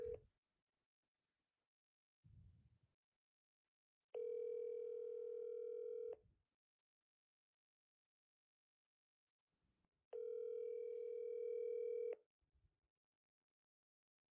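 Outgoing telephone ringback tone during a call, two long steady electronic tones about two seconds each separated by silence, with faint handset rustles between them.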